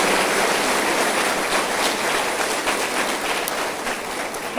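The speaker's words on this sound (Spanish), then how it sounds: "Denle otro aplauso al Señor." A church congregation claps in sustained, dense applause that fills the whole stretch at an even level, with no break or talk.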